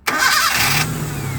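A hard-starting car engine cranks briefly and catches at once, settling into a steady close idle, loud and alone.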